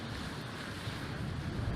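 Waves wash around a boat heading from a channel into open water, a dense, steady rush of water with wind buffeting the microphone throughout and no voices.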